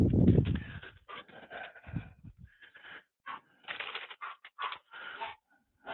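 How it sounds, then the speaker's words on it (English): A dog barks in short, sharp bursts indoors, the barks scattered through the clip, while a person talks nearby and some rustling and handling noise sounds close in. "there goes my dog barking"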